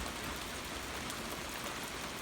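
Rain falls steadily outside a house during road work, a dense constant hiss of drops on surfaces with no breaks.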